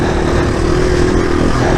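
A Yamaha TW200 motorcycle on Kenda K257D tires drones loudly and continuously from up close, its engine hum mixed with heavy wind rush while riding.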